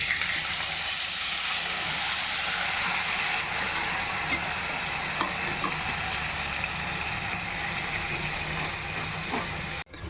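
A paste of onion, ginger, chili and tomato fries in hot oil with cumin and bay leaf for Bengali doi potol, a loud, continuous sizzling hiss with a few faint stirring clicks, and no voices.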